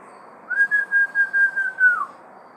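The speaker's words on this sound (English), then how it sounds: "Parrots are whistling." A parrot gives one clear, sustained whistle of about a second and a half. The whistle holds a steady pitch, then drops off at the end, with nothing else audible around it.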